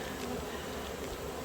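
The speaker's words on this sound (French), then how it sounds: "Est-ce que les abeilles tentent à rentrer?" Honey bees mass at a hive entrance, a dense, steady buzzing hum close by with no voices over it.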